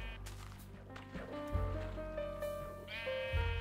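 Sheep bleating in Minecraft, a couple of drawn-out, wavering bleats close by over soft background game ambience.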